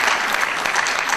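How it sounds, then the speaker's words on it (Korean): Audience applause at a Korean book-launch celebration as guests are welcomed, a brief, dense, continuous burst of many hands clapping together. "뜨거운 박수로 환영해주시기 바라겠습니다"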